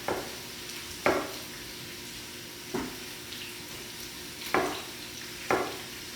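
Butternut squash soup ingredients, chunks of squash and apple, are stirred in a pot. Five distinct scraping knocks come at irregular intervals over a soft, constant background hiss, with no talking.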